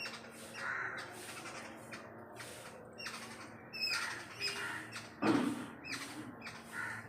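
Crows caw and squawk repeatedly at close to moderate distance in a string of harsh, uneven calls, with one louder caw near the end and no talk.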